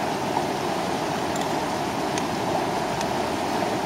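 A river flows beside an outdoor picnic spot in the countryside, a continuous, even rush of water that fills the scene.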